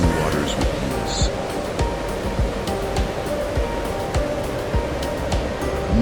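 A fast-moving stream in Yellowstone rushes along in a continuous broadband roar of churning water, loud and close, with no voices.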